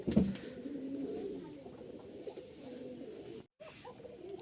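A pigeon gives soft, low cooing calls and rustles about close by, fading slightly toward the end after a brief break.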